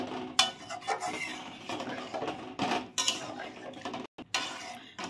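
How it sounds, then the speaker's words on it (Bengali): A spoon scrapes and knocks against a pot while chicken curry and water are stirred, irregular clinks and scrapes coming in bursts with short pauses; no talking. "জল দিয়ে এখন ভালো করে নাড়াচাড়া করে দিচ্ছে।"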